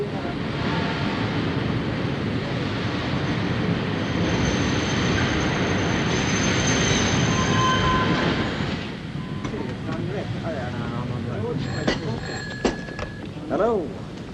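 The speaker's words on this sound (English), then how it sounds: "Train's coming in now." Steam-era train pulling into a station in a 1941 film, a loud continuous rumble and hiss for about nine seconds that then thins out into quieter station noise with clanks and a brief whistle-like tone.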